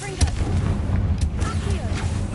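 A Confringo blasting spell fires in the Hogwarts Legacy video game, a sharp booming crack followed by rumbling and a few quick pops, close and loud over a low game background.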